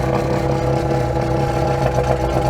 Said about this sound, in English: let the engine idle for another 30 seconds